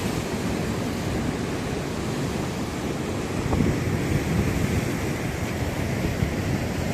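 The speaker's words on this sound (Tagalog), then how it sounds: "Nakakatakot yung waves, guys. Big waves talaga." Big ocean waves crash and wash on the shore along a Hong Kong trail to Big Wave Bay, a steady moderate roar with a slightly stronger surge midway and wind noise.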